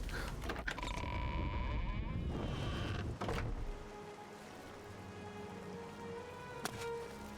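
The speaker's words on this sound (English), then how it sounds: "I love that rain sound." Steady rain falls in the Elder Scrolls IV: Oblivion game world, a soft continuous patter that is louder at first and then eases into a quieter wash, with no talking.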